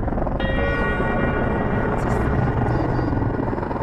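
A rescue helicopter flies over Mount Everest, its steady rotor and engine drone rolling on loud and unbroken, with a faint whine above it and murmured voices beneath.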